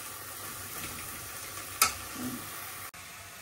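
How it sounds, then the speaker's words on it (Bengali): Banana flower fritters frying in hot oil give a steady, soft sizzle throughout, with one brief sharp crackle partway through and a sudden cut near the end. "এই যে কলার মোচার বড়া ভেজে নিলাম"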